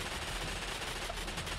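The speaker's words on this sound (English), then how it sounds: "Right, you see that gunfire?" Rapid machine gun fire in a Minecraft war battle, a dense continuous rattle of shots blending into a loud, unbroken barrage with no pauses and no voices.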